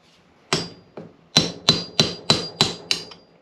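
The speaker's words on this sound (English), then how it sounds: "Hopefully I can just get this thing spinning with a chisel and a hammer" Eight sharp metallic hammer blows ring out close up at an uneven pace, each with a bright metallic ring, striking a chisel against a bolt on a Kawasaki KX 85 dirt bike.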